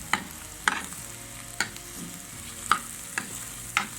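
Onions sautéing in hot oil for an egg masala, giving a steady low sizzle broken by sharp periodic scrapes of stirring, close and alone without talk.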